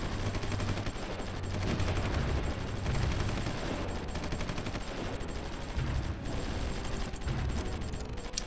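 Dense, continuous gunfire from infantry combat in the strategy video game Supreme Ruler Ultimate, with overlapping rapid shots and bursts crackling steadily throughout and no one speaking.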